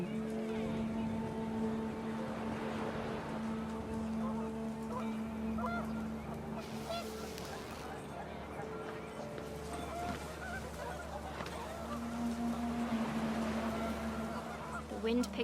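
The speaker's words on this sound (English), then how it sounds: "The wind picked up, and panicked geese appeared and quickly went." Panicked geese honk in the game What Remains of Edith Finch, a steady chorus of calls over wind and ambient game noise, with narration heard over it throughout.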